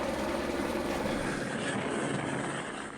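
A helicopter flies over the Greenland ice sheet with a loud, steady rotor and engine drone that holds throughout. The sound eases off slightly toward the end, and no one speaks over it.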